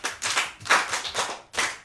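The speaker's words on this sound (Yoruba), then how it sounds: "Ẹ pàtẹ́wọ́ fún." Several people clap together in a children's programme, a few ragged bursts of applause spaced out across the moment, fairly close and lively, with no talking over it.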